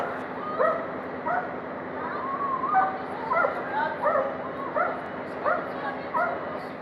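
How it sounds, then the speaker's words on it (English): A police dog gives a string of short, excited yips and whimpering barks, near and fairly loud, repeating irregularly over a low steady hum with faint voices in the background. "This police officer was managing a situation with his canine when the dog suddenly lunged toward a nearby bystander."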